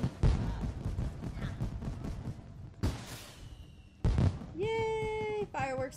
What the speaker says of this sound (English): Yay! Fireworks are over.